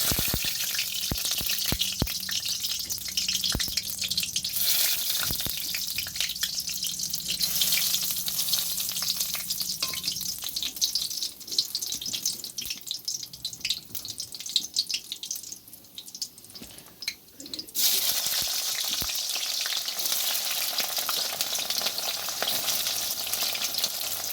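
Onion, potato and spices hitting hot oil in a wok, a loud sizzling hiss with crackles that eases and then surges again late on, near and continuous with no speech.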